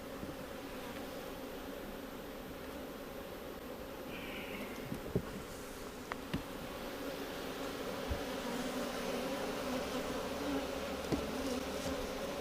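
Honey bees buzz steadily around an open hive during an inspection after a swarm, a dense, continuous drone close by with a few faint clicks and knocks from handling the frames.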